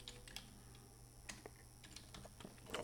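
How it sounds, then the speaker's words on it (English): Light, quiet typing on a computer keyboard, a loose run of soft key clicks close by with no talking. "So I'll just type what I use locally."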